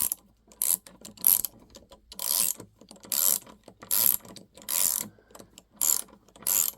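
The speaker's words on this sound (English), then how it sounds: "Ratcheting is good. It's decent. It's got lowish back drag." A VIM dual drive flex ratcheting wrench on a 1/2 inch 13 mm fastener, giving repeated bursts of rapid ratchet clicking separated by short pauses, close up and crisp, with no talking.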